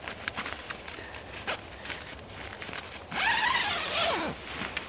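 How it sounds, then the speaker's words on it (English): A Snugpak Elite 3 sleeping bag zipper is drawn up in a quick, rasping pull, louder near the end, preceded by scattered light rustles and handling clicks, close by with no talk. "And then you can zip that up again."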